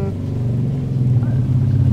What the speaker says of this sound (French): Non, c'est une moto.